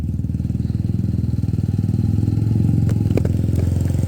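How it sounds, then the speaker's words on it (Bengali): A motorcycle engine runs steadily during a ride, its dense low rumble pulsing evenly and swelling slightly louder partway through, with a few faint clicks and knocks on top. "যে সাউন্ড ভাই বাইকের"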